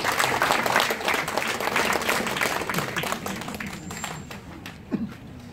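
An audience in a hall gives sustained, dense applause to welcome a speaker at a club officers' installation ceremony, steady and full before thinning slightly toward the end.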